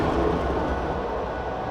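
An old Soviet sleeper train starts to move, giving a steady, loud rumble of broad rail noise that continues without a break and without any voices.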